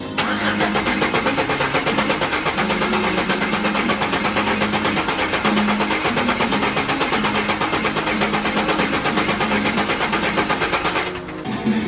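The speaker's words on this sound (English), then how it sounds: "I'm going to do a long crank." A 2008 Chevrolet Express van with a misfire cranks over at length, the starter grinding in a steady, rapid rhythm for about eleven seconds, loud and close, with no speech, before stopping near the end.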